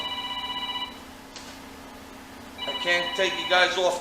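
Telephone ringing in a home garage during a rear upper control arm bushing install, a steady electronic ring tone that stops, then returns louder and busier toward the end, with some talk underneath.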